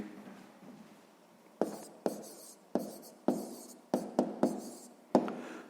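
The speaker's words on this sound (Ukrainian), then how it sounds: "Ну що ж, записуємо тоді відповідь" A pen writes the answer into a sixth-grade math exercise book, with soft scratching broken by about eight crisp, close taps and strokes in an irregular rhythm and no talking.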